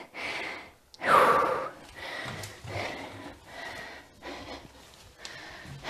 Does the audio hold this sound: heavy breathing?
yes